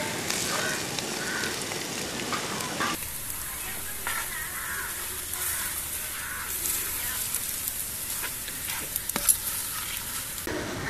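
Ground spice paste sizzles steadily in a pan with sautéed onions and shallots for a beef roast, a loud continuous frying hiss with occasional stirring scrapes and faint talk in the background.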